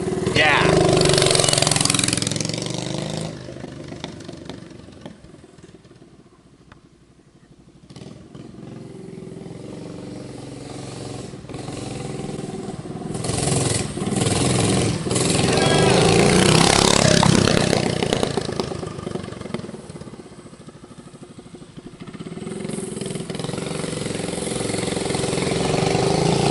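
A Bad-Dog 212cc hot rod minibike engine runs steadily and fairly loud throughout, its note rising and falling with throttle, while people talk over it.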